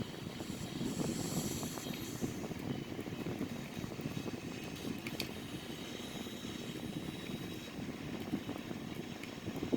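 Airbus A340-313X taxiing in a flight simulator game, a continuous steady engine roar and hum with a faint high whine, even in loudness across the whole stretch, no voices.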